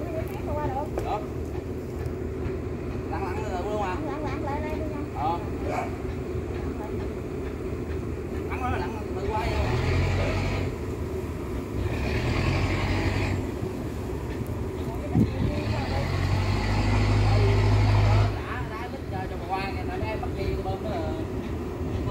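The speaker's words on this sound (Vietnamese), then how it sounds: "Đây ghe lúa bắt đầu ra nè." Diesel engine of a rice-carrying river boat in Vietnam rumbles steadily as the boat starts pulling out, swelling louder in bursts midway and near the end, with people chatting throughout.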